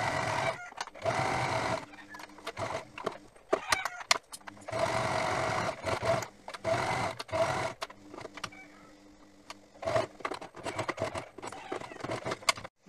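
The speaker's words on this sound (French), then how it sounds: "vous passez une couture sur ce côté-là et sur ce côté-là" A domestic sewing machine stitches a seam along the edge of a terry washcloth in short rattling bursts separated by pauses, close and fairly loud.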